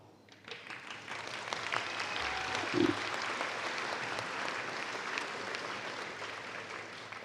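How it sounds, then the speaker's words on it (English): Audience at a Pasco-Hernando State College winter commencement ceremony breaks into sustained applause that swells quickly and holds steady, broad and reverberant in a large hall. "congratulate with them with a moment of applause as well"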